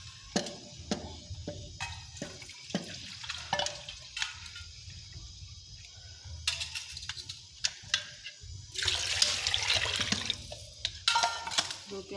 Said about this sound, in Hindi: अब हम इसमें 2 प्याला पानी डालेंगे।